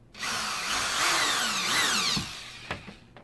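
A cordless power drill whirs in a short burst driving screws into plastic J-channel for a comic display, rising and slowing over about two seconds, then a couple of sharp knocks.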